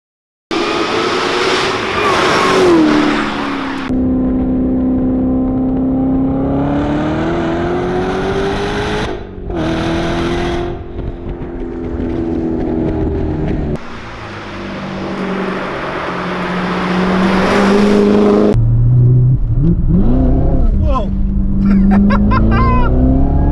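A 757-horsepower Callaway Corvette Z06 pulls hard through the gears from inside the cabin, the loud engine roaring up in pitch and dropping at each shift, then climbing again with a brief blip near the end.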